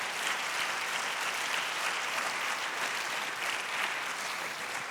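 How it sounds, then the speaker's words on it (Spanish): A church congregation applauds during a Sunday sermon, giving a dense, even wash of many hands clapping that holds steady for the whole stretch without talk over it. "yo pensé que iba a dar un aplauso ahí en esta mañana."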